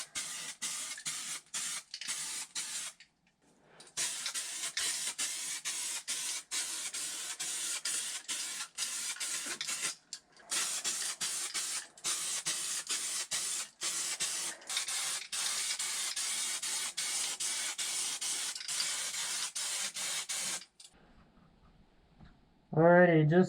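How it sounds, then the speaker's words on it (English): Epoxy primer hisses steadily from a spray can while a car floor is primed, long continuous bursts with brief pauses, close and loud, ending with a short tonal sound after the spraying stops. "I've just mixed up my primer here according to the instructions"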